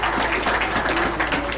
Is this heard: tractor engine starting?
no